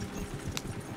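Horse hooves clip-clopping in the Red Dead Redemption 2 video game, a steady muffled low thudding rhythm over a one-second stretch of even game ambience.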